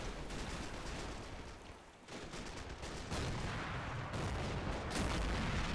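Distant French artillery guns at a besieged citadel fire in a battle game, producing muffled booms and irregular rumbling thuds layered over a continuous dull battlefield din, faint and far off.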